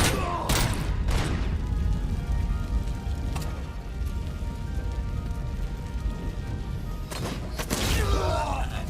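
Gunfire in the shooter game Robocop Rogue City, sharp bursts of shots at the start and again near the end over a dense, rumbling battle din.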